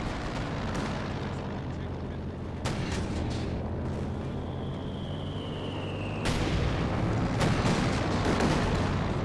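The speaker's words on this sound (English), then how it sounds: "A lot of fire going in there against the Stromovic from 230mm guns." Heavy 230mm artillery fire in the real-time strategy game Company of Heroes 2 rumbles as dense, booming blasts during a 1v1 match, with sharp impacts cutting through the battle din and a voice talking over it.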